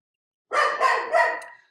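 A dog hollers in three quick, loud barking bursts close by, each slightly drawn out, with no talking over them.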